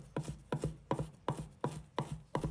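A knife minces crushed fresh ginger on a cutting board with quick, evenly spaced chops, about three per second, close and crisp with no talking.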